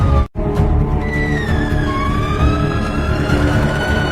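An ambulance approaches with its siren sweeping in rising and falling tones over a loud road rumble, after a brief dropout at the very start.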